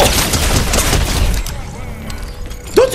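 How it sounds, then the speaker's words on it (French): Rapid bursts of gunfire in the video game Fortnite, loud dense shots crowding the first half and thinning out afterward, mixed with game effects. "Que dis-moi tous ces coups de feu, les amis."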